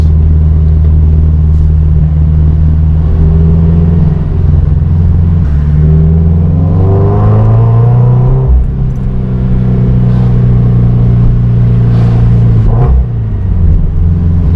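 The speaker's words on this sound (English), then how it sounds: "now that my exhaust sounds more aggressive, sporty" A Toyota 86 sports car with a DC Sports cat-back exhaust revs up loudly, pitch climbing and dropping back to a deep rumbling idle, then blipping again, close and alone.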